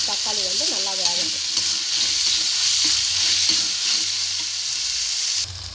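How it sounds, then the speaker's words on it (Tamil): Tomatoes fry and are stirred in a pan for an Andhra-style cauliflower pepper fry, a steady close sizzle running throughout with occasional scraping stirs and a brief harmonic clatter near the start. "போட்டு நல்லா கலக்கி விட்டுருக்கப்புறம் தக்காளி வந்து நல்லா வேகட்டும்."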